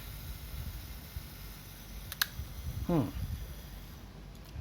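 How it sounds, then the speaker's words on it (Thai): A quiet mechanical click and a brief whirring snap of a Yashica Electro 35 GL film camera shutter stand out against faint background hiss. "ชัตเตอร์ทำงานนะครับ"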